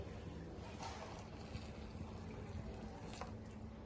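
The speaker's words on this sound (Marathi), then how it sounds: "मीही थोडस उखळलेलं पाणी या स्टेजला टाकत आहे" Boiled water is poured into pav bhaji in a pan, producing a faint, steady trickling and splashing with low background noise.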